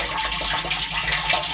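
Rainwater gushing out of an outer drainage pipe after an all-night rainstorm, a steady close rushing splash of water.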